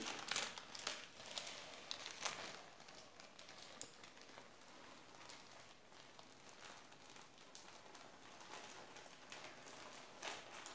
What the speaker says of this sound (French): je vais retirer celui-là, le papier cuisson qui est en dessous